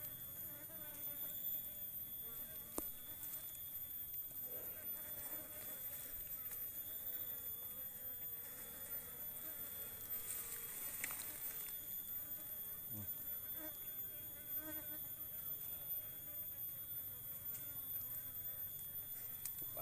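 Asian honey bees (Apis cerana) buzzing, a faint, continuous hum of many insects close by, with quiet voices and occasional clicks in the background.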